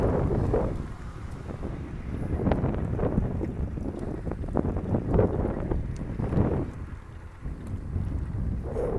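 Strong wind on a terrace buffets the microphone in a constant low rumble, gusting up and down for the whole stretch.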